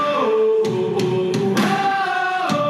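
A pop-punk song, a steady, full mix of sustained guitar and vocal-like tones with regular drum hits cutting through.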